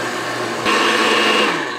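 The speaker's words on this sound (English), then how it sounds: "We put in 3 cups of roasted squash and 2 cups of broth and just blend it." Kitchen blender pureeing roasted butternut squash with broth for soup, a loud steady motor whir that rises in pitch partway through as the mixture loosens, running alone without talk.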